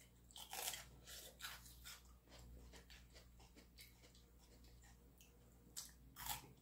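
Crunchy fresh fruit chewed close to the mic during a mixed fruit tasting, with several loud crisp bites and crunches at the start and again near the end, softer chewing between them, and no talking.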